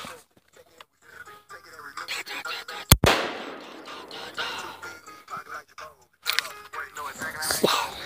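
A single loud, sharp shotgun blast cracks out near the middle, with a brief ringing tail, surrounded by quiet outdoor talk and handling noises before and after.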